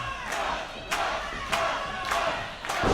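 A crowd at an independent wrestling event roars and cheers steadily, with sharp thuds landing at regular intervals over the noise.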